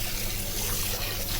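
Cold tap water pours steadily over drained, cooked spaghetti in a kitchen sink, a continuous close splashing rush with no talk.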